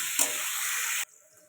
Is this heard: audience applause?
no